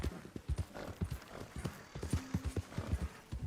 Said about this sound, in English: Let's hitch the horsey.